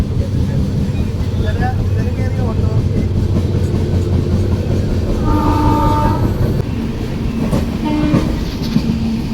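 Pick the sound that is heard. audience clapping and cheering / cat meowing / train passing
train passing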